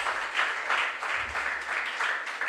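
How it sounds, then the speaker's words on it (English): Audience applause at a regional junior science and maths quiz contest, steady rhythmic clapping of moderate loudness for a couple of seconds, heard alone without speech. "Can we give him a round of applause?"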